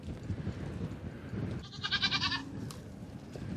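A Nigerian Dwarf goat bleats in its birthing stall, a single short, fairly faint cry partway through over quiet barn background noise.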